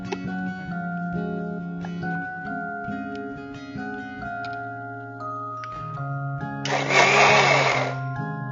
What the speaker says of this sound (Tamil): இப்போ இந்த சூப்பை மிக்ஸில போட்டு நல்லா அரைச்சுக்கலாம்.